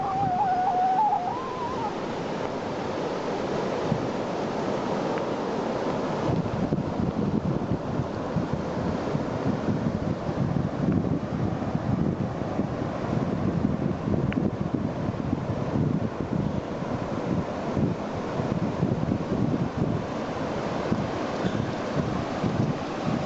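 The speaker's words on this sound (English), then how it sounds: "I can see the ocean" Ocean waves and strong wind on the Costa Rica coast, with gusty buffeting on the microphone over a steady roar of surf that swells and churns throughout, no talking.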